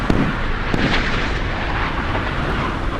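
Stern-mounted SA-N-4 OSA surface-to-air missiles launch from a frigate during a naval battle in the Sea Power game, a steady loud roaring rush with a few sharp bursts near the start, no talking over it.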